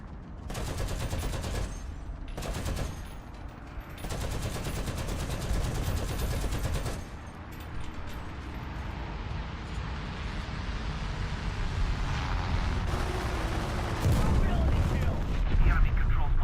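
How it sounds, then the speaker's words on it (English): Rapid machine gun bursts rattle in a video game battle, long sustained volleys broken by short pauses, loud and close, with a voice talking over part of the firing. "Machine gun ready for action."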